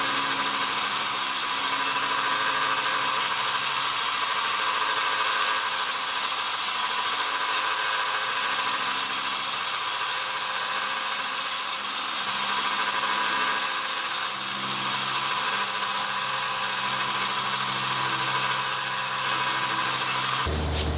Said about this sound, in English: pretty much all I'm doing is belt sanding and grinding.